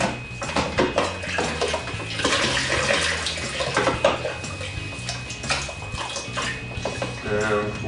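A long winemaking spoon gets a quick rinse under running water for sterilizing, with steady splashing and occasional clinks of metal against a sink, close by.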